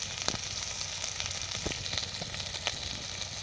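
Onions, curry leaves and spices fry in hot oil for a hill crab soup, a steady close sizzle with faint crackles and occasional stirring, and no voices.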